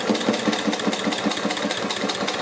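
Vintage 1939 Singer 31-15 industrial sewing machine with servo motor stitching leather, a fast, even hammering beat of needle strikes repeating steadily at close range with no talk.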